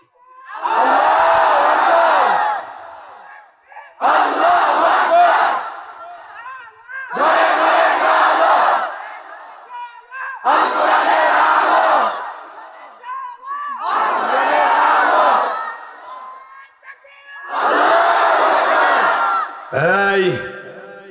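A large crowd at a religious sermon (waz) chants the takbir in six loud, evenly spaced bursts of about two seconds each, with short pauses between them and a brief voice at the very end.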